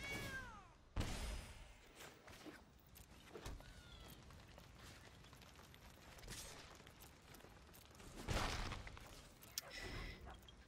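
A cat meows in the Magic: The Gathering digital card game as a Cauldron Familiar card comes into play, a short faint cry over a busy mix of card and interface effects with a few sharp hits.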